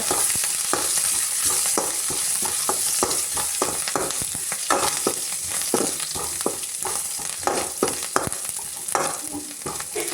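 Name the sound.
onion and curry leaves frying in coconut oil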